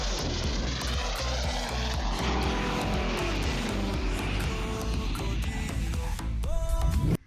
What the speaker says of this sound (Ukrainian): Заходь на приземлення. Смугу відкрито.